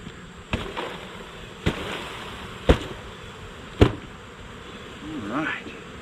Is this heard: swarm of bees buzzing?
yes